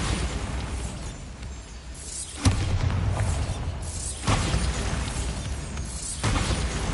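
Bombarda blasting spell in Hogwarts Legacy, three loud booming blasts spaced a couple of seconds apart over a dense rumbling game soundscape, no talking.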